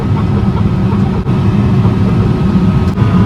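A New Holland combine harvester unloads canola into a chaser bin, giving a loud, steady low diesel drone with a constant mechanical rumble, close and continuous throughout.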